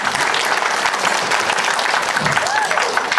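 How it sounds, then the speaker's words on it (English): Wedding reception guests clap loudly and continuously at a venue in Manukau, a dense steady wash of applause with faint voices mixed underneath. "Everyone clap for Auntie. Clap louder than that."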